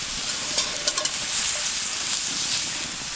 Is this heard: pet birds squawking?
no